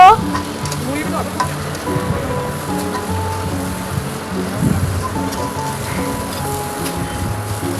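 Bitter gourd pieces fry with salt and turmeric in a pan, giving a steady loud sizzle as they are stirred, with occasional scraping, and a voice speaks faintly at times.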